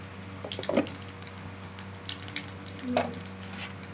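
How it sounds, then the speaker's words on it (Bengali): Potatoes frying in hot oil with whole cumin seeds in a Bengali home kitchen, giving a soft, steady sizzle broken by a few sharper crackles and pops. "এবার গোটা জিরে তারপরে ফোড়নে দিয়ে আলুগুলো ভাজতে দেবো।"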